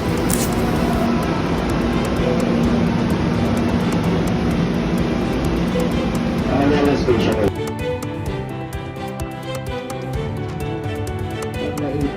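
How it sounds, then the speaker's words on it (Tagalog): A train rumbles and roars loudly at close range, then slows with a shift in tone as it arrives at Shaw Boulevard Station, with people speaking over it. "dumating agad tong tren"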